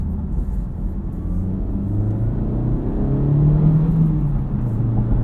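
2023 Honda Civic Type R with its 2-liter turbo engine, heard from inside as a loud, steady drone that climbs in pitch while revving, with no talk over it.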